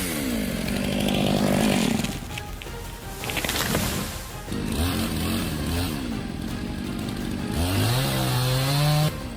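A powerful chainsaw cuts through wood during logging work, its engine loud and close, revving and bogging down in several surges with brief drops between cuts.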